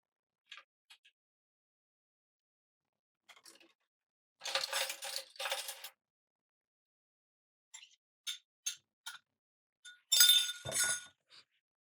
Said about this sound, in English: I'm going to add these eggs to this bowl.